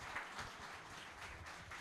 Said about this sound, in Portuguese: nada melhor, mais justo que uma bela salva de palmas aqui